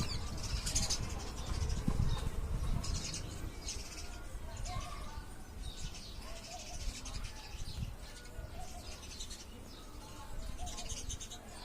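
Small birds chirp during summer, with faint high twittering and scattered calls beneath a busy outdoor background while a person talks over them.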